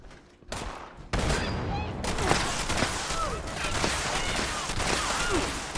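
Dense gunfire in Fallout 76 comes in a loud, sustained burst of rapid shots and crackling impacts after a brief quieter start, running continuously to the end.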